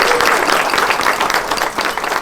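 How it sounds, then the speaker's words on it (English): Audience applause for award winners at a small business week closing ceremony, a dense steady wash of many hands clapping at close range, continuous throughout with no talk over it. "Let's give them a round of applause one more time."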